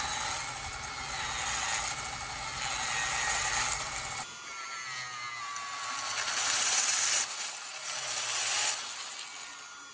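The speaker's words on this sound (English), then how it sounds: "And just let the Dremel do the work." A Dremel rotary tool grinds and rubs against the wheels of a Jouef BB 9201 electric model train, a steady close whirring scrape that swells and eases in passes over about ten seconds, with no talk.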